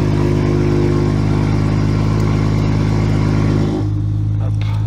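A car engine idles with a steady deep rumble, loud and close, with a slight throttle change near the end as the note drops back. Diesel smoke is present after a cold start.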